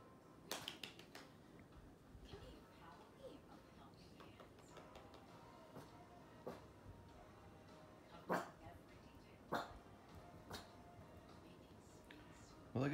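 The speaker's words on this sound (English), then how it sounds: "Well, I guess a shallow bark's better than a loud bark." A dog gives soft, muffled barks and short yips at a distance, spread sparsely over a steady low background murmur.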